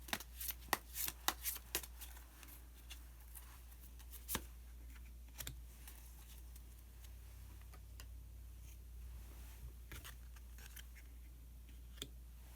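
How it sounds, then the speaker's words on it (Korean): Tarot cards are shuffled and drawn close by and quietly, with a cluster of crisp riffling clicks early on, then soft, sparse card snaps and slides over a low hum. "그러면 히든 카드를 한 장 더 뽑아보도록 하겠습니다."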